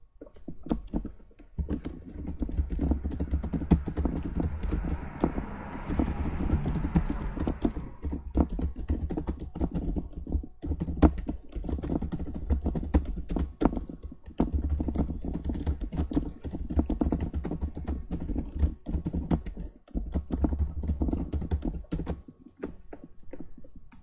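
Fast typing on a computer keyboard while writing code, a long run of close, crisp key clicks in irregular bursts with brief pauses, steady and moderately loud, with a faint low hum beneath and no voices.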